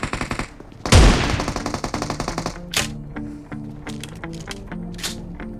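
UMP submachine gun fire in PUBG Mobile, one heavy blast followed by rapid automatic bursts of crisp clicking shots in quick rhythmic strings.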